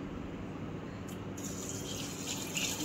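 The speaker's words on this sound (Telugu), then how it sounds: "కలుపుకొని వాటర్ పోస్తున్నానండి." Water is poured from a vessel into a pot holding two glasses of rice for mushroom biryani, a soft, continuous, splashing stream heard close and alone without talk.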